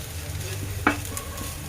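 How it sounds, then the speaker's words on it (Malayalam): Onions sauté in a pan for a hotel-style tomato chutney, a low steady sizzle with one brief scrape of a spoon partway through. "സവോള ലൈറ്റ് ഗോൾഡൻ കളർ ആവുന്നവരെ ഒന്ന് വഴറ്റി കൊടുക്കാം"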